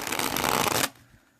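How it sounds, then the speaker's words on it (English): A tarot card deck held upside down is shuffled in one quick riffling burst of papery flutter close up, stopping sharply after under a second, with no talking. "So that's how I have to shuffle this deck"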